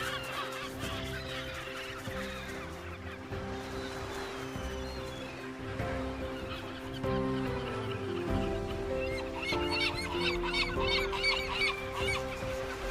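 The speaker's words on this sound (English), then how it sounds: "Their massive colonies are home to thousands of nesting birds" A dense seabird nesting colony of thousands of birds, loud overlapping honking and squawking calls going on continuously, close and crowded, with no speech.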